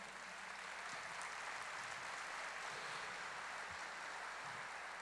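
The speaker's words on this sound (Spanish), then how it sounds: "Denle un aplauso al Señor." A Christian congregation applauds in church as a faint, steady wash of clapping that carries on without a break.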